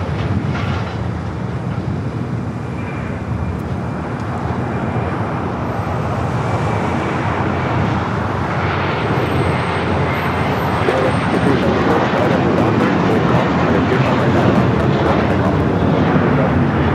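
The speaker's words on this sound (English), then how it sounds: "taking off to Dallas Fort Worth on the A321." An American Airlines A321 takes off from Los Angeles bound for Dallas-Fort Worth, its jet engines a loud, steady broadband roar that holds and swells slightly over the whole stretch, close by.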